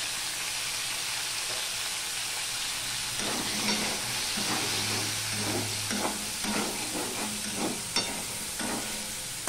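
Potatoes frying in a pan with salt and turmeric, a steady sizzling hiss with soft stirring scrapes and clinks as the pieces are moved around.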